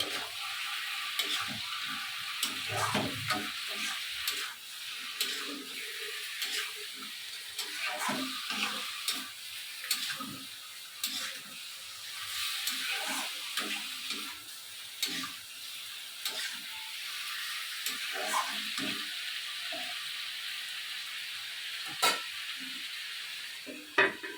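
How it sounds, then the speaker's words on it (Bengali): Duck meat being stirred in a pot once the lid comes off, a steady sizzle and hiss of frying with scraping stir strokes recurring throughout, close and fairly quiet, no voices. "এখন ঢাকনাটা উঠিয়ে একটু নেড়ে দিতে হবে"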